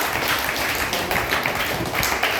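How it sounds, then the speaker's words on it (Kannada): Children at a school quiz prize-giving clap loudly and continuously, a dense steady patter of many hands filling the whole stretch without pause, with no voices standing out above it. "ಜೋರಾಗಿ ಚಪ್ಪಾಳೆ ತಟ್ಟಿ ಮಕ್ಕಳ"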